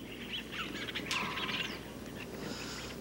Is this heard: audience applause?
no